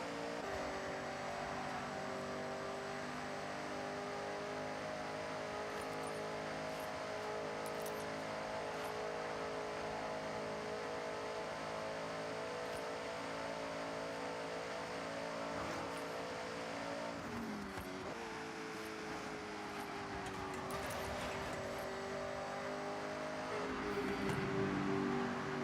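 A car engine in Forza Horizon 6 drones steadily as a manual-shift car cruises along, its pitch holding, then dipping and rising at gear changes, with no talk over it.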